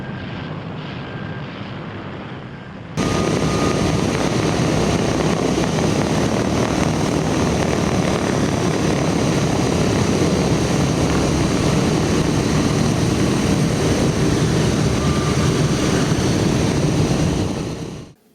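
A B-17 Flying Fortress bomber runs its radial propeller engines while taxiing at an air show visit in Martinsburg, PA, a loud, steady droning roar that jumps sharply in volume after a few seconds and holds close and constant, then cuts off abruptly.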